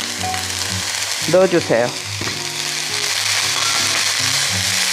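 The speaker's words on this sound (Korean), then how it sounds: "재빨리 볶아주시고요" Beef brisket and bean sprouts stir-frying in a hot pan give off a steady close sizzle, and a brief spoken phrase cuts in over the frying.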